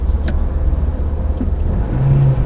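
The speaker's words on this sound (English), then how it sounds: "Into a corner, blip the throttle, turns in so well." A light 2002 Ford Ka with a small 1.3 engine is driven hard through a corner on narrow side streets, its steady, close engine note running loud throughout with no speech.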